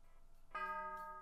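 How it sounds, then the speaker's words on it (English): A school bell from the video game Purrfect Apawcalypse rings to mark the end of the day, a clean electronic chime that follows a short silence and holds bright and steady, then sounds again. "Bell rings marking the end of school day."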